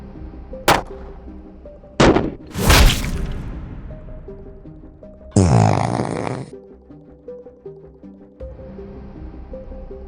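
A .380 handgun fired with Defiant Munitions ammunition gives several sharp, loud reports spaced a second or more apart, followed by a longer burst of noise, over a steady tonal hum.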